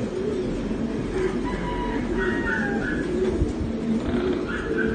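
Pigeons coo softly in the background, several low repeated calls set against faint ambient noise, with no one speaking.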